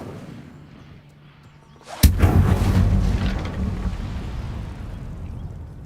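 An Incendio fire spell cast in the Hogwarts video game bursts suddenly out of quiet, a loud sharp blast that swells into a roaring whoosh and fades slowly over several seconds.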